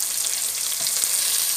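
Chopped onions and peanuts fry in a pan, giving a steady, close hiss of sizzling oil that runs unbroken and fairly loud throughout, with no voices.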